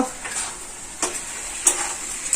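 Cabbage curry cooks in a pan on a home stove, with a soft sizzle broken by a few scraping stirs at uneven intervals.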